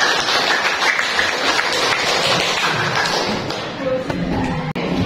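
Applause from a classroom audience for student group 7 after a presentation, dense continuous clapping filling the room for several seconds.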